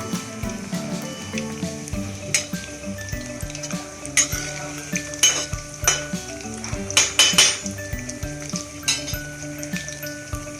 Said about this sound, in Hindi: मैं पकौड़ों की साइड चेंज करती हूँ।